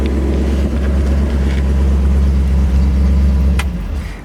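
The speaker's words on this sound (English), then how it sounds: "I'm going to turn off the engine" A restored 1969 Ford Mustang Mach 1 with a 351 four-barrel V8 idles steadily and loudly close by, a deep continuous rumble with no talk over it.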